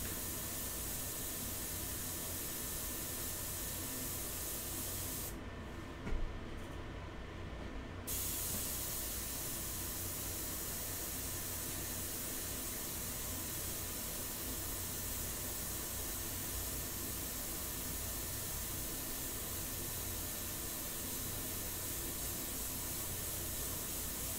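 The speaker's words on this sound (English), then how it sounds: "it's a great airbrush to start with as far as begin your painting" An airbrush sprays India ink onto paper in a continuous close, even hiss that runs almost unbroken, with a short pause partway through and a faint click, no voices.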